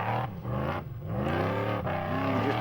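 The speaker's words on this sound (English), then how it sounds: "that's got a Lexus V8 in it" A 4x4 trials truck powered by a Lexus V8 revs hard and close at a Whanganui trials event, its deep engine note rising and falling through several throttle blips.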